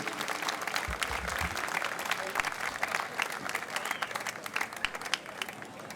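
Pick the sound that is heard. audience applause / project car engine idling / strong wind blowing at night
audience applause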